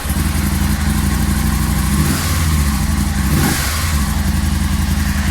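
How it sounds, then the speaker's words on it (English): A motorbike engine runs loudly and steadily after a stator repair, with a brief rise in revs partway through before it settles back to an even running note. "Woohoo! I have a running motorbike."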